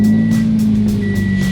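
A car engine runs loud and close just after starting, with a steady, droning idle hum that holds for under two seconds and no voices over it.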